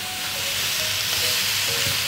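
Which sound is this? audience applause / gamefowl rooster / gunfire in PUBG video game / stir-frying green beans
stir-frying green beans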